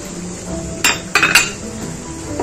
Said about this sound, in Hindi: और अब इस टाइम पे मैं जैसे सारे मोती डाल दूंगी जो मैंने ये बनाए थे